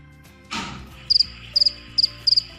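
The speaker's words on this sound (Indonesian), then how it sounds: "maka akan muncul suara jangkrik." A soft tap, then clear cricket chirps in four short, evenly spaced bursts, close and fairly loud, from a simple animal-sound computer game.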